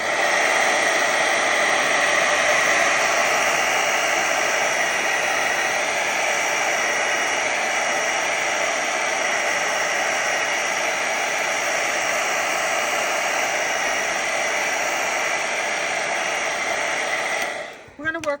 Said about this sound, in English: I'm going to hit this with the dryer really quickly.